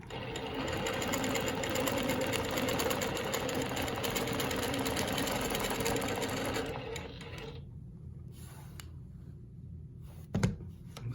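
A longarm quilting machine stitches custom quilting in a steady rapid whir for about seven seconds, then stops, leaving faint quiet with a brief knock near the end.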